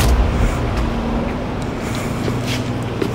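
A 2022 Kia Sorento out on the road after a turbocharger replacement, its steady low engine and road rumble heard from inside the cabin, with no one talking.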